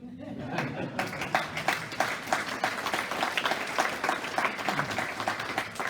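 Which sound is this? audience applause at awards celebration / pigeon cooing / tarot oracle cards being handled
audience applause at awards celebration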